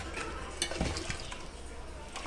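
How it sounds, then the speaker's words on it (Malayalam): Beef being stirred in a pan with onion, garlic, ginger, coconut pieces, chilli powder and coriander powder for a home-style Kerala beef piralan: a faint, steady sizzle broken by soft scrapes and knocks of the spoon against the pan. "ബീഫ് ഇട്ട് ഞങ്ങൾ അത് മിക്സ് ചെയ്യുകയാണ് അമ്മ"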